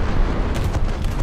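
Rapid secondary gun turrets of the Duguay-Trouin warship firing in War Thunder, a dense rolling barrage of booms with no clear gaps, loud and continuous.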